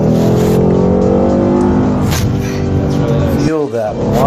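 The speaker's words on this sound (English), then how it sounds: "Feel that modern V8 power. Full power runs Ford Mustang." Modern Ford Mustang V8 convertible revving hard at full power, a loud continuous engine roar with rising harmonics that drops off abruptly near the end, with voices faintly mixed in.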